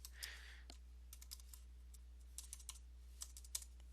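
Keys clack on a computer keyboard as PHP code is typed, quiet scattered taps in short irregular bursts with pauses between them, close and alone.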